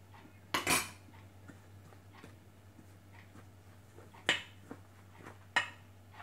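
A spoon clinks against a bowl while mixing flour dough with coconut cream for a Thai layered dessert, three sharp scraping knocks spread over a quiet background hum.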